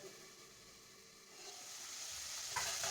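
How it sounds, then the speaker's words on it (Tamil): A covered pan sautés the base for paneer butter masala with a faint, soft sizzle that grows slightly louder and crackles near the end, with no voices. "மூடி போட்டு வதக்கிக்கலாம்."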